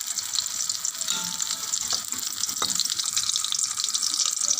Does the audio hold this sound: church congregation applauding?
no